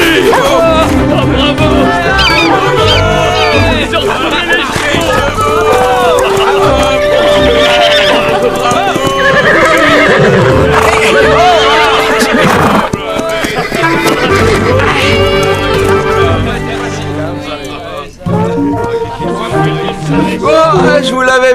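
Horses neigh and whinny loudly over and over, with hoofbeats and a busy mix of background noise and voices around them, from a French animated cartoon.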